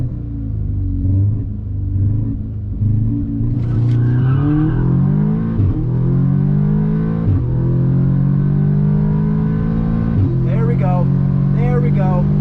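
A Stage 2 Audi S3 makes a quarter-mile drag strip run, its engine droning loud and close and rising in pitch through several gear changes, with brief breaks at each shift.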